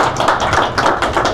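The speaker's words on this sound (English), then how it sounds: "let's give them a round of applause" An audience at a Hands Off Medicaid rally applauds the speakers. Many hands clap in a dense, steady burst close by.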